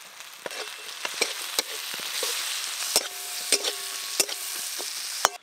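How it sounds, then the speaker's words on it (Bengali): Chopped onions frying in hot oil, a steady close sizzle with intermittent sharp crackles and stirring taps, no talking. "তেল গরম হয়ে গেছে, পেঁয়াজ ভেজে আমি মাছে মাখাবো"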